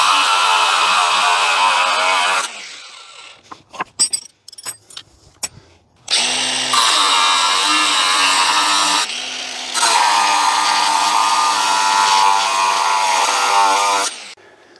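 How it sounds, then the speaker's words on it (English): An angle grinder cuts off the ends of metal spanners in three loud, sustained bursts of harsh, whining grinding, with a short spell of clattering and handling between the first and second cuts. "just using the angle grinder to cut off the ends of the spanners"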